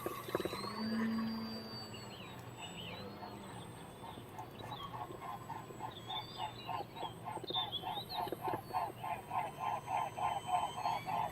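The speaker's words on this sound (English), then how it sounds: "There comes some really large birds." Large birds call in a steady, rhythmic series of honking notes, growing louder over a constant model airplane propeller drone.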